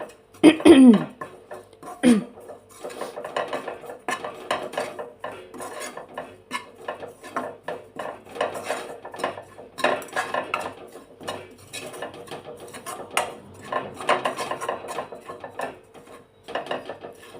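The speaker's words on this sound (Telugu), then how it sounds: "ఇలా ఎండు కొబ్బరి ఫ్రై ఫ్రై చేసుకోవడం వల్ల పచ్చి వాసన అనేది పోతుంది మంచిగా దూరగా వేయించుకోవాలి" Dry coconut roasting and being stirred in a pan for laddu, with steady scraping and clinking of a utensil against the pan throughout, louder clatter near the start.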